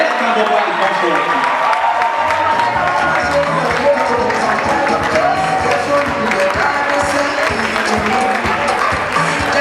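A lecture audience at a university medical students' public lecture claps for a professor, sustained loud applause with some crowd murmur and cheering as people stand, continuing without a break.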